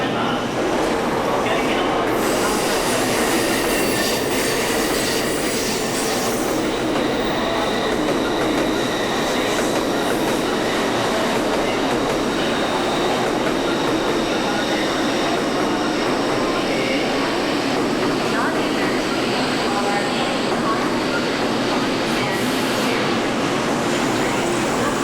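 Shinkansen bullet train at a Tokyo station platform, a steady loud rumble of rolling cars and rail noise with faint wheel squeal, sustained throughout with station announcements and people talking under it.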